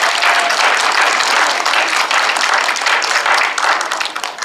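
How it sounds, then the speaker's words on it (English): Audience applause for drummers at a Chanukah concert, a loud, dense burst of many hands clapping that holds steady, then begins to thin out toward the end. "Give them a round of applause."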